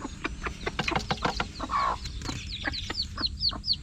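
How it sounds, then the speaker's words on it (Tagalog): Several backyard hens cluck and chatter close by in a steady, busy flurry of short calls, with a few brief squawks and rustling among them and no voices. "Gulo ng mga manok na to."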